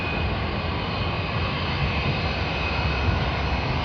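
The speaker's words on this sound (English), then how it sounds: "Vietnam Airlines coming in from Ho Chi Minh City on the A350-900." A Vietnam Airlines Airbus A350-900 arriving at Sydney Airport from Ho Chi Minh City gives off a steady, even jet roar that holds at a constant level throughout, with no voices over it.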